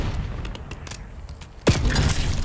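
A grenade detonating in the video game Call of Duty Black Ops 6, a sudden heavy boom rolling out after a quieter stretch of background game noise.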